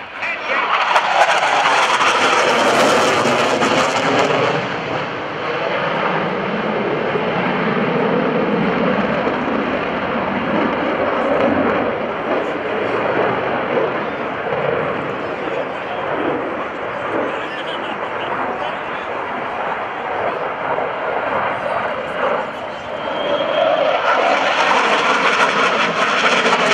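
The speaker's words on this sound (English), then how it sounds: "Showing you just how tight this aircraft can turn is the Hornet" An F/A-18C Hornet jet flies a minimum radius turn at the NAS Oceana airshow, a loud, sustained roaring jet engine that swells and shifts in tone as it passes, while voices talk over it.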